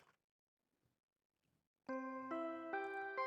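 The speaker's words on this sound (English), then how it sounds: "Ding dong dong ding" In Danganronpa V3: Killing Harmony, a chiming ding-dong announcement rings out after near silence: four bright, bell-like tones step in sequence and sustain loudly, with no voices over them.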